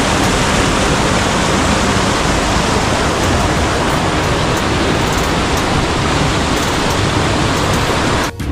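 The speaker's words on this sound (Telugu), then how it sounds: "వెళ్ళే దారిలో మనకు ఒకటి చిన్నగా రివర్ది కనిపించింది" A small river rushes along a roadside during the monsoon on the road from Vizag to Araku Valley, making a loud, steady, dense roar of flowing water with no voices.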